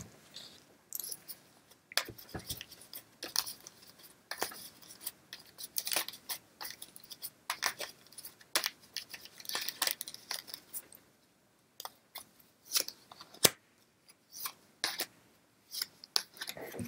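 Neapolitan playing cards are handled during a card reading, with sharp crisp snaps, flicks and soft papery rustles scattered irregularly across a quiet background.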